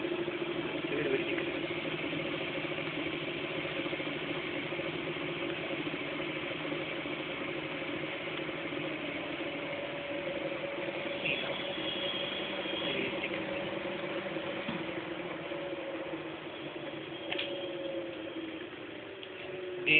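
An AC motor runs with its speed set by an RF remote, giving a steady, faint electric hum with sustained tonal whine and light mechanical whir, unchanging and continuous with no voices.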